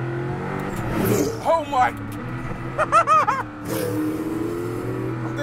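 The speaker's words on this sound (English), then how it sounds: "Second gear, floor it." Hennessey Venom F5, a 1,800-horsepower hypercar, pulls at full throttle in second gear, its engine note rising loudly and close by as a passenger reacts with a short exclamation over the acceleration.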